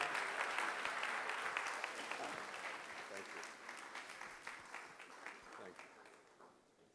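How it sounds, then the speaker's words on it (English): Steady applause from a crowd, dense and sustained, gradually thinning and softening toward the end with a few louder individual claps. "you can please give another round of applause, Larry"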